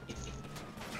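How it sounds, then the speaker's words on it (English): Police siren wails during a chaotic roadside chase, its rising tone cutting through loud, dense traffic and engine noise in a brief burst. "Here's some sirens."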